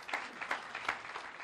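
A church congregation at a service in Nezahualcoyotl claps together in a soft, steady patter with rhythmic pulses, fairly distant and with no talk.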